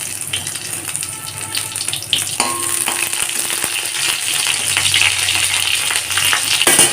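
Fennel seeds, two dry red chillies and crushed ginger fry in hot oil for a Bengali biulir dal tempering, giving a loud, continuous sizzle and crackle close by with no talk.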